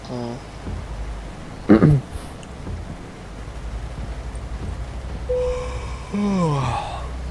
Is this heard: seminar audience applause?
no